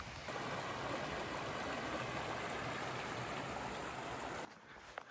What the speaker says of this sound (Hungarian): A csobogás azonban itt is elkísér minket.